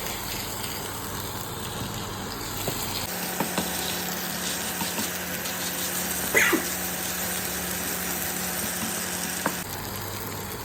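Water with a little oil added boils in a cooking pot, giving a steady hiss and sizzle with soft bubbling, close and even for the whole stretch.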